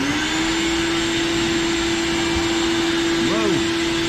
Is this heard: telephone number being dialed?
no